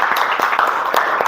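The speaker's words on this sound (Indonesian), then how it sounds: "tepuk tangan dulu" A classroom of students gives a round of applause after a group presentation, a dense, even wash of many hands clapping close by with no talking.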